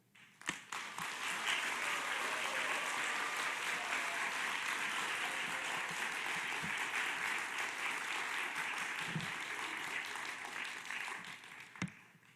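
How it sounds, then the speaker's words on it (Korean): Sustained applause from a large church congregation fills the room, steady and enthusiastic, with a few sharper claps at the start and end. "박력 있는 우리 환영의 박수로 맞이하겠습니다"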